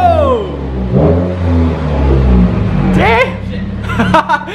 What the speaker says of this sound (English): Give us a nice little launch control.